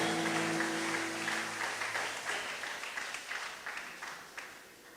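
A church congregation applauding and cheering, with voices and a sustained tone at the start, then a fairly faint, dense patter of clapping that gradually fades.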